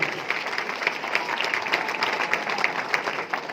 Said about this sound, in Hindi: एक बार मैं चाहूंगा उनके लिए जोरदार तालियां हो जाए।